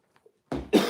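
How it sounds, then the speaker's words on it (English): A man who is recovering after a hospital stay gives two harsh, close coughs in quick succession, trying to clear his lungs after a brief quiet pause. "coughing. Trying to clear my lungs out still."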